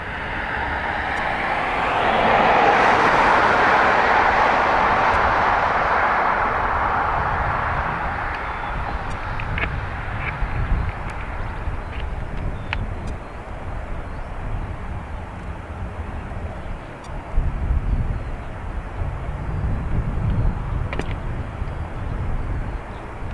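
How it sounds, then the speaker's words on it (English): A Ryanair jet passes at Dublin Airport, its engine roar swelling loud early on and then slowly fading into a low rumble that lingers across the rest of the clip. "he was waiting for the Ryanair to go by"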